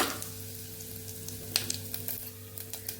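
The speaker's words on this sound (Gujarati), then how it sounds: "તેલ ગરમ થઈ ગયું છે તો અડધી ચમચી જેટલું જીરું ઉમેરશું પાંચ ચમચી જેટલી હિંગ ઉમેરશું" Cumin seeds and asafoetida crackle in hot oil for a Kathiyavadi tempering, a faint, close sizzle with scattered small pops over a low background hum.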